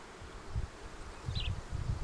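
Honey bees buzz in a wooden hive box, a low droning hum that swells and fades in short pulses, close by and fairly soft, with a brief higher whine partway through.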